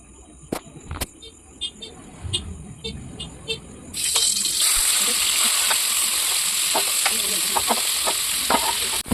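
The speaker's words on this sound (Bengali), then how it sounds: "এবার বেগুন ভাজা, এবারে বিন কড়াই ভাজা হচ্ছে" Eggplant and beans fry in hot oil in a wok, a loud continuous sizzle that jumps up partway through after a few clinks and stirring knocks at the start.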